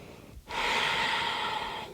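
After a brief pause, one long deliberate breath is drawn in through the nose, loud and close, as conscious breathing during a morning yoga routine.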